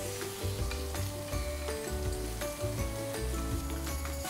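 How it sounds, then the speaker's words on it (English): Prawns frying in a pan while making a Miffy bento box, a steady soft sizzle running throughout with faint stirring clatter and no voices. "then we're going to fry our prawns"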